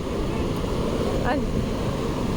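Sea waves surging up onto the shore, a continuous loud rushing wash with a brief faint chirp over the water.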